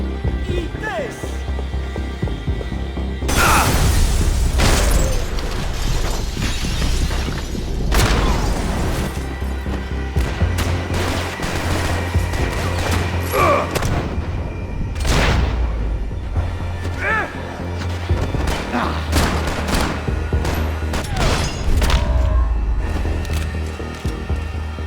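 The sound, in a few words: gunfire and explosions in video game Max Payne 3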